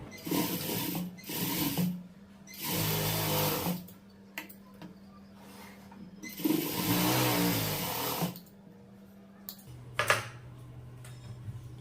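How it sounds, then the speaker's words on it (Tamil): A sewing machine stitches blouse fabric with a roughly quarter-inch seam. It runs in several separate bursts of whirring stitching, each a second or two long, with pauses and a low steady hum in between. No one speaks. "காலிஞ்ச் அளவுக்கு தையல் போட்டுக்குங்க"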